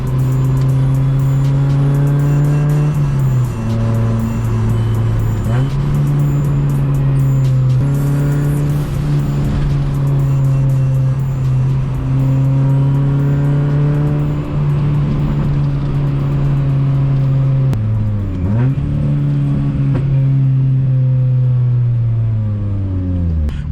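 An H22-swapped Honda Accord wagon with a dual overhead cam engine revs hard while driving, loud and close, the engine tone climbing and dipping through several gear changes over a steady drone.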